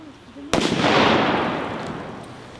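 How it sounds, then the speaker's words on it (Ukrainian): A single loud blast from a booby-trapped grenade set off during a humanitarian demining demonstration by state emergency service pyrotechnicians, a sharp onset followed by a long rumbling decay. "вибух."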